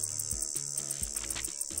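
Insects sing in a steady, shrill high-pitched buzz, continuous and fairly close, over a soft low musical backing with no talking.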